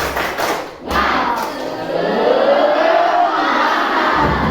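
A classroom of students performs a tepuk semangat spirit clap, with loud, close rhythmic clapping joined by a shouted group chant that swells in the second half.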